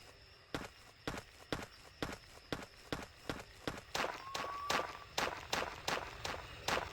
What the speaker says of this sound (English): what I thought was footsteps might have actually just been a rock rolling down the hill